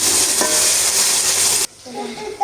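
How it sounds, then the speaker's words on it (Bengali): Spices frying with onion, ginger paste and garlic paste in a pan, a loud dense sizzle with stirring scrapes that cuts off abruptly, leaving a quieter clink and faint rustle at the end. "এখানে এগুলা মশলাগুলা কষায় নেব, পেঁয়াজ আর আদা বাটা রসুন বাটা একসাথে"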